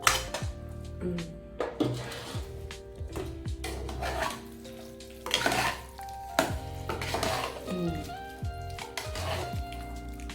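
Cabbage kootu gets stirred in a pan with a metal utensil, giving irregular clanks and scrapes against the pot over a faint sizzle, with loud knocks at intervals and no talking.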